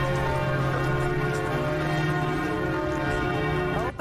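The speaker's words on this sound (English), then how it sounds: "We'll take you to the top of the iconic bell towers of Notre-Dame Cathedral." Bells ring out from the towers of Notre-Dame Cathedral in Paris, a dense, sustained peal of overlapping tones that stays loud throughout, with no one talking.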